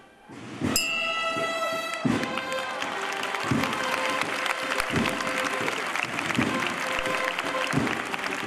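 Hundreds of people gathered in an Alicante street applaud as the first Holy Week procession statue emerges, a sustained clapping crowd heard nearby alongside bright metallic ringing tones and periodic heavy thuds.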